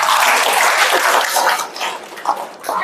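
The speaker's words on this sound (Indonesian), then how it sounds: "tepuk tangan dulu dong" Short burst of audience applause during a Ramadan religious lecture, dense clapping at first that fades unevenly within three seconds as voices come in.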